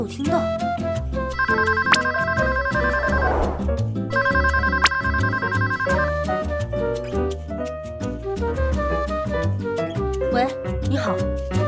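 A telephone rings in two warbling bursts, each about two seconds long, over steady background music in an animated drama, as a call comes through to a palace bedroom line.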